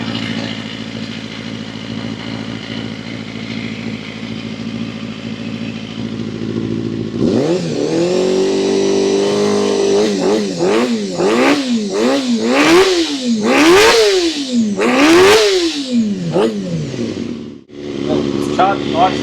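A Honda CBR250RR MC22 motorcycle engine running rough at a steady idle, then revved repeatedly in rising and falling bursts, close and loud, before dropping back near the end.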